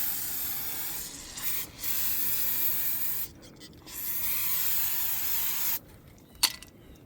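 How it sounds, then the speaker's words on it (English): Several long, steady hissing bursts from an aerosol can spraying brake cleaner onto a car's wheel hub, separated by short pauses, close and fairly loud. "And then we're just gonna spray the hub with it."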